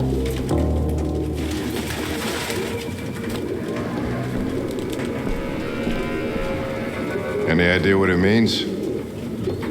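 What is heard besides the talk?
pigeons cooing in video game Detroit: Become Human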